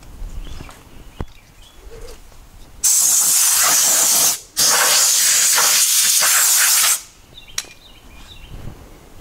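A compressed-air nozzle blows off a steel wheel from a 1962 Chevy C-10 pickup in two loud hissing bursts with a brief break between them, set against quiet background sounds with faint birdsong.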